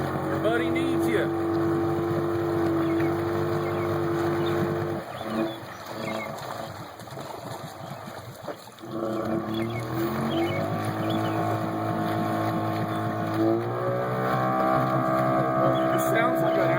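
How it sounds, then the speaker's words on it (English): An outboard motor on a boat at a pond revs in sustained droning roars, dipping briefly and climbing again in pitch, loud and fairly close, with voices talking over it. "It sounds like an outboard."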